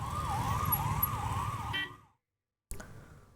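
An ambulance carrying a patient sounds its wailing siren in congested traffic on a service road, a loud warbling tone over engine rumble that cuts off abruptly, followed by a brief sharp noise after a silent gap.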